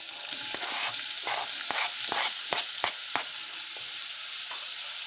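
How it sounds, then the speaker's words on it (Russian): Carrots and onion sizzle loudly in hot oil in a cauldron, with a constant bright hiss, while a few quick clanks and scrapes of stirring cut through. "Бросаю сюда морковку и лук."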